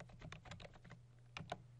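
Typing on a computer keyboard comes through as a quick run of soft, close key clicks, a brief pause, then two sharper taps to finish.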